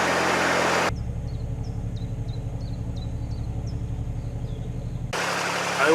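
Steady low narrowboat engine throb at about 1800 revs on the Grand Union Canal, a regular pulsing rhythm running continuously at moderate loudness, with faint chirping birds above it.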